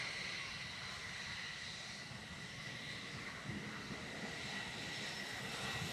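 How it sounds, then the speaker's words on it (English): A Boeing F-15 jet taxis along the runway at the Farnborough International Airshow, a steady broad engine roar with a high whine, held at an even level at moderate distance, with no voices. "The F-15 will taxi down the runway."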